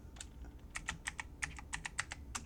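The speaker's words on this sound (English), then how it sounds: "So I can type" Quick bursts of keystrokes on a computer keyboard while renaming a file, about a dozen close, crisp clicks in an uneven typing rhythm, with no voices.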